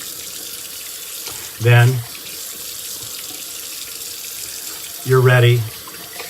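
Water running steadily from a bathroom tap as a face is rinsed before shaving, a constant close splashing stream, while a voice speaks briefly twice.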